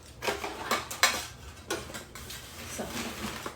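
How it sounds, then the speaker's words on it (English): Spoon stirring hot popcorn with melted chocolate in a metal pan, with close scraping clanks and knocks against the pan in uneven strokes, heard alone without talk. "what I'm gonna do here is just gonna start stirring up"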